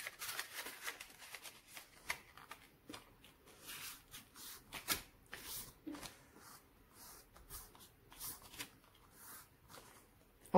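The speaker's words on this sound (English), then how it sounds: "I am going to fold this paper or this square into three parts" A square sheet of paper being folded into three parts, giving faint rustling, crinkling and soft creasing sounds in irregular bursts, quiet and close.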